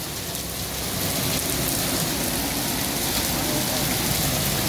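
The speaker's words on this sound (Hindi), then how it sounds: "ये देखें गाइस ये ओले पड़ रहे हैं" Hail falling with heavy rain at a market in Lahore: a dense, loud, continuous roar of drops striking surfaces, with no breaks across the whole stretch.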